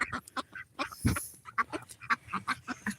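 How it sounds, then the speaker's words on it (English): Farm ducks quacking close by in a quick, irregular string of short nasal calls, with one louder squawk partway through and no talking. "you know the duckies, if they could say hi, I think they would"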